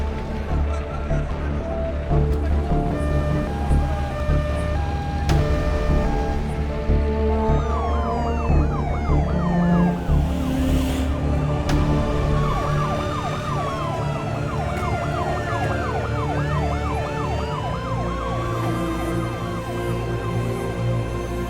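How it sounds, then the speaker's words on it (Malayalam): An ambulance siren in a film scene wails in rising and falling sweeps, growing clearer midway as it passes over a steady rumble of road traffic. "വണ്ടികളെല്ലാം മാറ്റി വെക്കാം. ആംബുലൻസ് പോയി."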